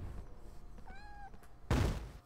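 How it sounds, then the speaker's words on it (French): A cat in a Harry Potter video game gives a single clear, rising meow over faint background noise, followed shortly by a loud dull thump. "Mais pourquoi il y a encore un chat qui miaule?"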